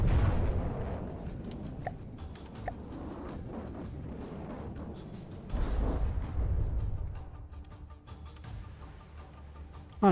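Enemy missile launchers firing in From the Depths, distant repeated booms and thuds over a rumbling battle backdrop, with a louder burst midway, no speech.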